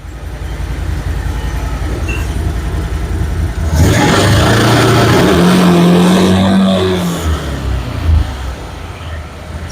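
A Can-Am Defender utility vehicle engine runs loud and close, revving up to higher RPM partway through with a rising droning whine before easing back.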